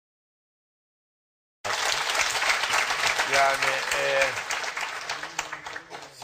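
Studio audience on a Turkish television talk show breaks into sudden, loud applause after a stretch of silence, the clapping swelling, then gradually thinning out while a voice speaks over it.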